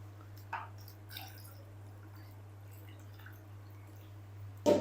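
Fish pieces coated with salt and ajwain are mixed by hand with vinegar and a little water, making a few faint wet squishes with quiet gaps, then one louder squelch at the end.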